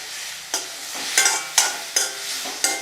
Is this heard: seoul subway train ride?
no